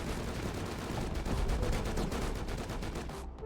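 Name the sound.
patrol helicopter strafing run gunfire in video game Rust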